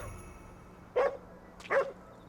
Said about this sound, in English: Hey, it's that same dog with the red banner.